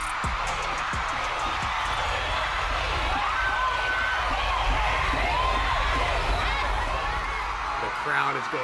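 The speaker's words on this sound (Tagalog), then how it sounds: "The crowd is going insane." Crowd cheering wildly at a pop group's performance, a dense, continuous roar of screams and whoops that holds steady throughout, heard from within the audience.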